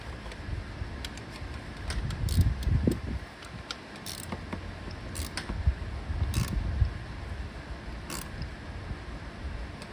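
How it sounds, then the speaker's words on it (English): Ratchet tightening the ignition coil bolts on a 2012 Infiniti M37x, rapid metallic clicking in short bursts with low handling rumbles, close and moderately loud, no talking. "I'm just going to use a ratchet in order to get these tight"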